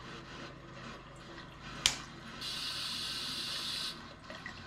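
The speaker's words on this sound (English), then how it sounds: "got a little bit of water coming out the bottom" Water running out of hoses on a temporary darkroom setup: a low trickling flow, a sharp click partway through, then a brighter, steadier gush for about a second and a half before it eases off, quiet and close.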